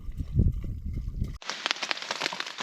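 Rain falling on a tent while camping in the Balkan mountains, a dense hiss of drops pattering on the fabric after a brief burst of low rumble, close and steady.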